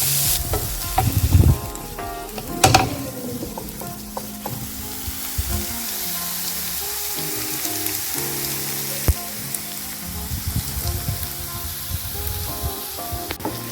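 Onion, ginger and garlic sizzle and fry steadily in a hot pan for a Kerala pearl spot dish, with occasional stirring clatters over a continuous close frying hiss and no talk.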